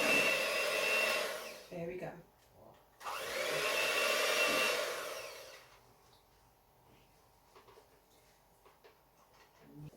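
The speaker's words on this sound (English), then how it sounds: "this is our mixture, okay, that I've just mixed up with the electric food mixer" An electric food mixer whirs through sponge pudding batter in a kitchen, running loud in two bursts separated by a short pause, then cutting off to quiet room sounds with faint clinks.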